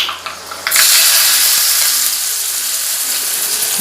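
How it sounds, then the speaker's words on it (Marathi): A hot tempering of curry leaves and asafoetida poured onto sesame chutney bursts into a loud, close sizzle that starts suddenly and keeps hissing steadily. "आता ही फोडणी आपल्याला चटणीवर घालायची"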